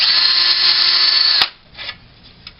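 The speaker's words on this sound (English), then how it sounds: "With a 1/8 inch bit, you drill a pilot hole through the bottom hole" Power drill boring a pilot hole with a 1/8 inch bit through the bottom hole of a closet shelf end clip, a loud close steady whine that stops abruptly, followed by a few faint handling knocks.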